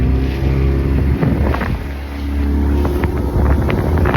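A motorboat engine roars steadily at full throttle off Santa Ponsa, Mallorca, with wind buffeting the microphone and water rushing beneath it.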